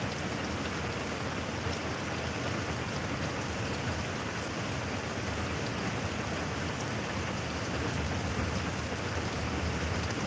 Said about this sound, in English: it's fixing to be some big thunder cracklings. I can hear it starting to crack.